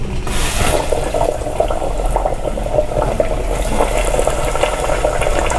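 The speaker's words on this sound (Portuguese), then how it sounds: "Aqui eu já tenho uma panela com meio litro de óleo bem quente." Breaded ground beef discs frying three at a time in a pot with half a litre of very hot oil, giving a steady, close, continuous sizzle and crackle throughout with no talking.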